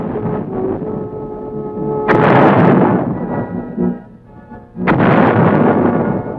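Artillery guns firing at Fort Sill, the Army field artillery center: two heavy, booming blasts about three seconds apart, each with a rumbling decay, over a steady low background.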